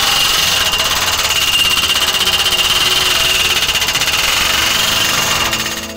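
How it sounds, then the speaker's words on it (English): A tractor-mounted hydraulic post pounder drives a metal post or pipe with rapid hammering at about 15 to 20 strikes a second, a loud steady pulsing buzz over engine drone that fades at the end. "it hits with 500 foot-pounds per strike with a firing rate of about 15 to 20 times a second"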